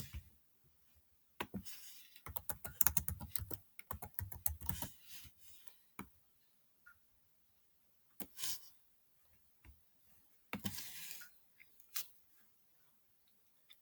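A computer keyboard on a Chromebook is being used for shortcuts. Its keys click quietly in irregular clusters, with a dense run of presses early on and a few scattered taps after long pauses.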